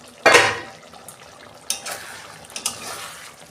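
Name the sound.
lid being taken off a cooking pot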